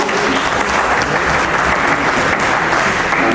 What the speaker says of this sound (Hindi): और ताली बजा तो जोर से जरा